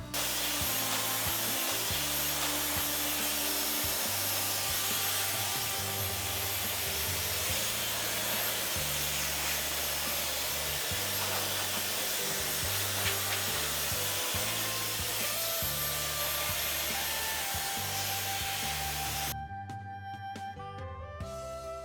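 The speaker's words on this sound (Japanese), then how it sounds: "髪を乾かしながらシルエットを整えていきます。" A hair dryer blows steadily while a very short haircut is dried and shaped, a loud continuous whooshing roar that cuts off near the end, with no talking.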